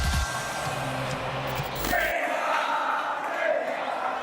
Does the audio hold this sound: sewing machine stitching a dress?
no